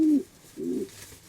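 A pigeon coos twice in low, soft bursts with a short pause between them, close by and with no talking.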